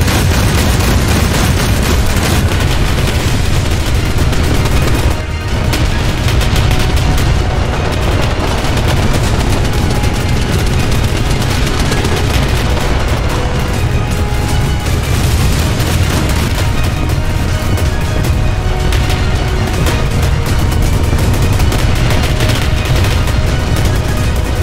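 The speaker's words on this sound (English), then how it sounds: "So many rounds being shot up in the sky, some of the bombs even end up getting hit, causing them to explode mid-air." WW2 anti-aircraft guns firing at bombers in a video game, with bombs exploding, some in mid-air: a dense, continuous roar of rapid flak bursts and booming blasts, loud and unbroken from start to finish.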